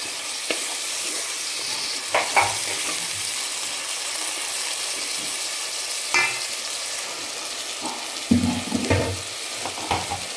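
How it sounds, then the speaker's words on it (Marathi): Finely chopped country tomato sautéing in oil in a pan, a steady soft sizzle with repeated scraping and clinking stirs at irregular intervals, close and moderate in level. "तो टाकते त्याला आपण दोन मिनिट आपण तेलामध्ये परतून घेणार आहे"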